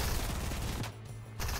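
Rapid automatic gunfire from the video game Fortnite rattles in quick bursts, loud and close, broken by a brief gap before firing resumes.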